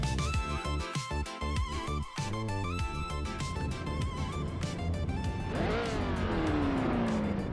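Race cars, including a classic 1968 model, roar around the Deutschlandring in a video racing game, with steady engine drone, rising revs, gear changes and a tire squeal near the end, continuous and loud with no talk.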